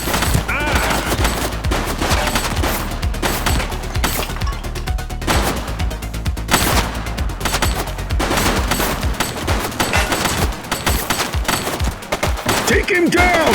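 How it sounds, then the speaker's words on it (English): Dense, loud gunfire rattles in a police video game, with rapid bursts of automatic shots and single cracks nearly continuous throughout, and voices shouting in between. "She's shooting!"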